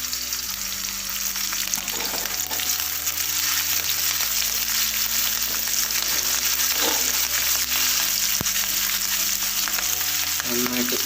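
Chicken sizzles steadily in a hot pan for chilli chicken, just before green chilies go in, a continuous close frying hiss that stays even throughout, with steady low tonal music underneath.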